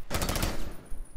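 Rapid automatic gunfire from an MP5 and an AK in Rainbow Six Siege, a loud burst of close shots for about half a second, followed by a few scattered sharper reports.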